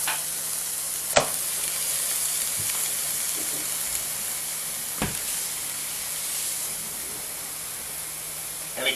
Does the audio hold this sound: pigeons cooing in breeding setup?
no